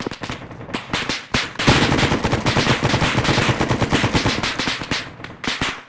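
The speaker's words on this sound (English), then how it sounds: "Taking fire." Loud, close automatic gunfire rattles in dense, rapid bursts almost without pause for several seconds, with scattered single shots at the start and end.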